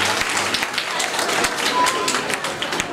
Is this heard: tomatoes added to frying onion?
no